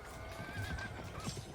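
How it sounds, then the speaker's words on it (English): Cavalry in a Europa Universalis IV battle: a horse neighs clearly over busy hoofbeats and low battle din, with a second brief whinny near the end. "I hear horses."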